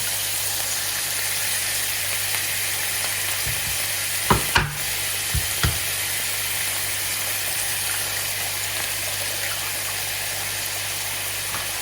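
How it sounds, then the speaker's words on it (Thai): An egg going into a pan of frying shrimp, a loud continuous sizzle with a few sharp clatters of a utensil against the pan near the middle, no talking. "ใส่ไข่ลงไปเลยค่ะ"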